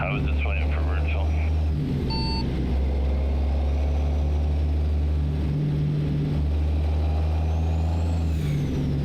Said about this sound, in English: I wanted to see with the interior sounds if that would increase the engine sound